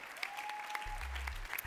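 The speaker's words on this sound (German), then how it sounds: "Applaus bitte." Applause from the audience at the Miss Austria 2018 pageant show, a steady, moderately distant patter of clapping for under two seconds with a low hum beneath.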